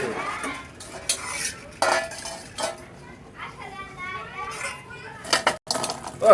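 A pot of Bangladeshi-style spiced chicken gizzard and liver bhuna being lifted off the stove in a home kitchen, with metal cookware clattering and clinking in several sharp bursts, close and moderately loud.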